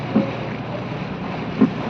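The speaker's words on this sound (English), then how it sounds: "Seeing the boats passing by" Steady boat engine and water noise, fairly close, with two soft thumps breaking the even drone.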